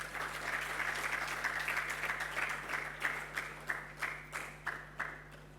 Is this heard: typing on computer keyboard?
no